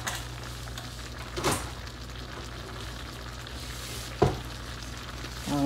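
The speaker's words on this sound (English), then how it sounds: "I'm gonna give it a stir," Chickpea curry with coconut being stirred in a pot, a soft continuous simmering sizzle broken by two distinct scraping strokes of the spoon and a louder clatter at the end.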